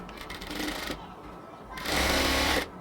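A sewing machine stitches a luxury cotton kameez seam in two close, buzzing runs, with a softer, quieter stretch between them.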